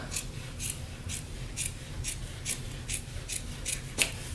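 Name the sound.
scissors cutting out armhole sections for pumpkin costume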